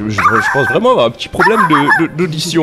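A dog barks and yips in a French audio drama, the barks mixed in with steady close conversation that runs over them.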